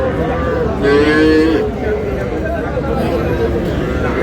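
A loud cow moo rises over a steady, busy crowd murmur at a cattle market in Cumilla, Bangladesh, with a single drawn-out low call near the start.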